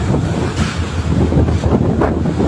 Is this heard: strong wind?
yes